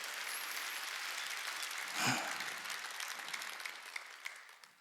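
A church congregation at a Wednesday worship service claps together in sustained applause, a dense, even wash of hands with a brief louder swell in the middle.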